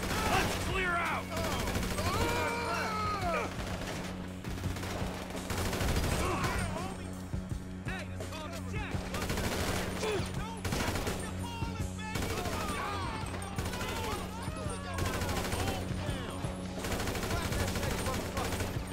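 Rapid gunfire from the Grand Theft Auto V video game, bursts of shots repeating throughout, with voices talking over the continuous game soundtrack.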